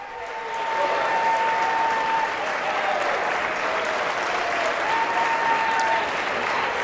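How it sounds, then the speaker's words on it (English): Applause fills the House chamber during the vote for Speaker, a sustained crowd clapping that rises after a second and holds steady, with a faint tonal hum underneath. "I'll allow them to applaud there because that's good trolling."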